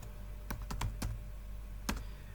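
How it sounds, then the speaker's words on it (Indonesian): Keys clack on a computer keyboard as git commands are typed into a terminal, a handful of quiet, irregularly spaced strokes with a short pause before a final press, close and soft with no voices. "kita tulis di dalam terminal itu git init, kita enter"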